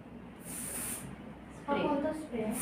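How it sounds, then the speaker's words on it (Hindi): Hair spray hisses from a professional quick-dry can onto freshly set curls in short bursts, with someone talking over the latter part. "यहाँ पे पकड़ो और स्प्रे करो"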